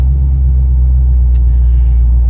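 A modified Porsche 928 with a freshly built engine of about 350 horsepower drones with a deep, steady rumble while driving, loud and close, with one brief high click partway through.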